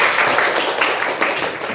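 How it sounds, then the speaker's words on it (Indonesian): Class 9C of students clapping together in a classroom, a steady dense patter of many hands lasting the whole moment at moderate loudness. "Tepuk tangannya mana 9C."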